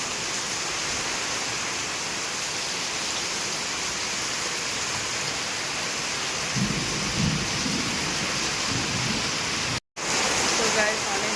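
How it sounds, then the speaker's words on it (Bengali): Heavy night rain pours in a steady, dense roar that holds the whole way through. A low rumble of thunder swells partway in, and a brief dropout breaks the sound near the end. "প্রচণ্ড বৃষ্টি হচ্ছে, প্রচণ্ড জোরে বিদ্যুৎ চমকাচ্ছে"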